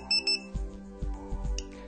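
A security alarm on an LCD2007 keypad sounds in short electronic beeps at first, then several low thumping presses follow at a steady pace, close and fairly quiet.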